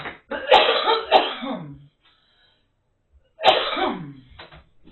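Two separate bursts of harsh, close coughing, each a cluster of rough barks trailing into a throaty rasp, divided by a couple of seconds of silence.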